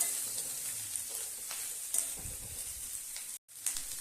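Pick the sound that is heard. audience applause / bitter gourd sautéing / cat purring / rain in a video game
bitter gourd sautéing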